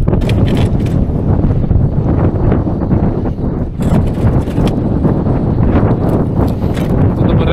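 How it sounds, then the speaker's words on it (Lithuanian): Strong sea wind roars and buffets constantly on a fishing boat out on the water off the Latvian coast, a loud, unbroken rush with gusty fluctuations and no clear speech. "Va čia galit pamatyti, koks vėjas pučia."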